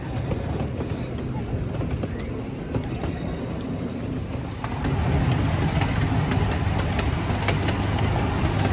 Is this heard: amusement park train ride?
yes